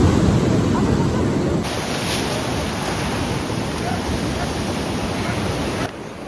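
Sea surf washes onto a beach at Sanzhiika in a continuous roar, heavily mixed with wind buffeting the microphone, with an abrupt shift in tone partway through.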